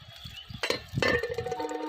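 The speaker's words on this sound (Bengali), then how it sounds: "ঢাকনাটা উঠিয়ে নিই দেখি কত দূর হয়েছে বেগুন ভাজাটা" A lid comes off a frying pan of eggplant being fried, with a couple of close metallic clinks and a brief ringing tone over a faint low background.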